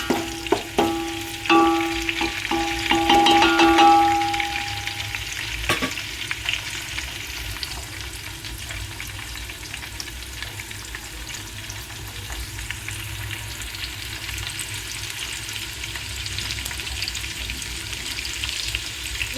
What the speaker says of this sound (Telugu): చూడండి, ఆయిల్ వేడెక్కింది. చెక్క లవంగాయలు యాలుక్కాయలు వేసేసాను. దూరగా వేయించుకోవాలండి.